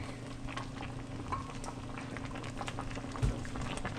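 Stew peas with oxtail, stew beef and chicken foot simmer in a pot, giving a quiet, steady bubbling with small pops and one brief knock near the end.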